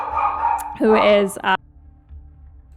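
Dogs bark in a short loud burst of a couple of sharp yaps partway through, close by, mixed with a person talking before and a quiet room afterward.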